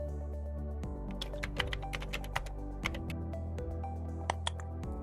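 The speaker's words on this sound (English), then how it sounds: "Type in your credentials." Rapid keystrokes on a computer keyboard while entering login credentials on a NAS login screen, a steady run of close, crisp clicks with irregular rhythm and no talking.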